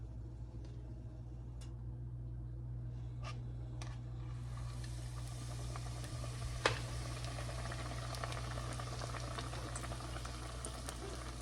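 Spoonfuls of apple fritter batter drop into hot oil, and a soft bubbling hiss swells into a steady broad sizzle over a low background hum, with a few faint clinks of a spoon.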